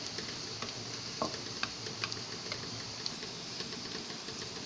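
Low, steady sizzle of whole dry spices toasting in a hot pan for aloo qeema, with scattered faint ticks and stirring scrapes throughout.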